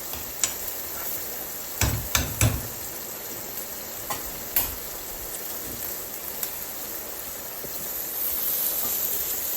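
Steady hiss of frying in a pan, with a few sharper crackles and pops scattered through; no voices.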